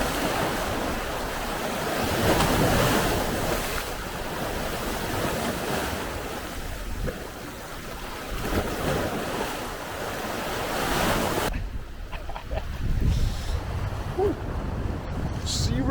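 Choppy waves at a Balkan beach town in the off-season crash and wash steadily against the shore, loud and continuous with heavy wind buffeting the microphone throughout.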